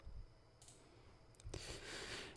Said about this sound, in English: I'm going to right click this and open in Wireshark